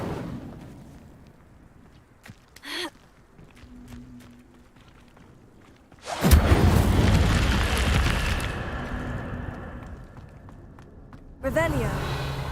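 A burst of fire from the Incendio spell in the Hogwarts Legacy video game, a sudden loud whooshing roar that flares up and sustains for several seconds before a second flare near the end, with a voice heard earlier.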